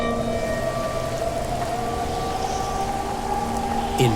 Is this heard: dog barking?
no